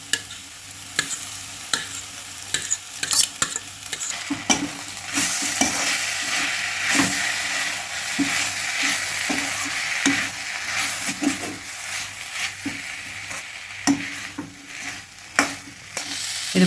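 Flaked paal sura shark fish scramble stirred and fried in a pan, with a continuous close sizzle broken by frequent sharp scrapes and clinks of the spatula against the pan.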